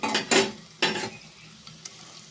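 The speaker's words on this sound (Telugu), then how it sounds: "ముందు మనం మూడు పచ్చిమిరకాయలు కొంచెం కరివేపాకు వేసుకుందామండి" Green chillies and curry leaves frying in oil for a spicy fish curry: a few sharp spattering sizzle bursts near the start, then quieter crackle with light stirring clicks, close by and without talk.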